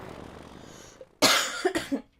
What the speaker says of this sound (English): talking too much is just getting my cough going